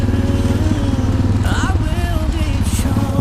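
Motorcycle ride along a rough track up to Rama Lake, a low steady engine drone running continuously and fairly loud, with brief voices and exclamations over it.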